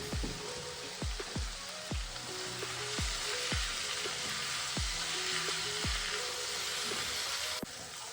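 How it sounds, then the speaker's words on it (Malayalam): Onions frying in oil while being stirred toward browning, a steady dense sizzle punctuated by regular knocking thuds of the spoon against the pan roughly every second, no talk. "എന്നിട്ട് ഇതാ ഇതുപോലെ നന്നായിട്ട് ഇളക്കി കൊടുക്കുക. ബ്രൗൺ ഷെയ്ഡ് വരുന്നവരെ ഇളക്കി കൊടുക്കുക."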